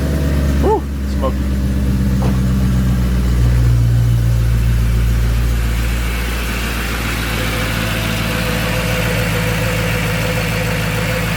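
Steady, close rumble of a supercharged M113K V8 idling in a swapped Mercedes CLK55 AMG with dirty supercharger oil and smoke, holding a deep, even drone throughout, with a brief voice near the start.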